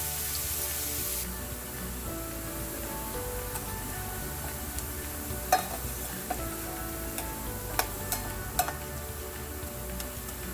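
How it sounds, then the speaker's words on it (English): Onions sizzle steadily in a hot pan while being stirred for caramelizing, a continuous close frying hiss broken by several sharp scrapes and clinks of the utensil, no voices. "add the onions and cook it down really well till the onions are nice and caramelized"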